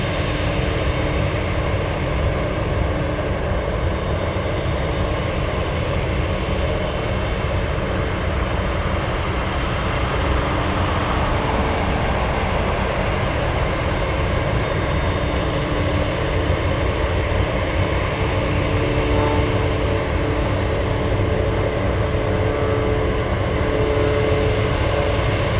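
Douglas C-47 piston engines idling on the ground while waiting to cross a runway, a steady, loud, broadband drone that holds constant throughout.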